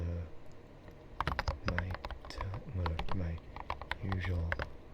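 Computer keyboard typing clatters in quick, uneven bursts of close, crisp keystrokes, with brief pauses between runs and a person's low voice faintly underneath.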